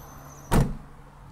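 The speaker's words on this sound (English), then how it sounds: "Make sure that I can actually close this door." A Land Rover Defender D300 door swung shut with a single firm, close thud as it latches, followed by a short decay into quiet.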